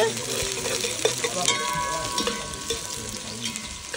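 Onions fry in a home pan for chicken massalé with snow peas, giving a steady close sizzle broken by soft scraping and clinking as a utensil stirs them.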